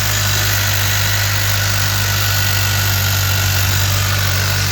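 A car engine idles steadily up close after a spark plug change, a loud continuous hum with a faint rapid clacking rattle running underneath.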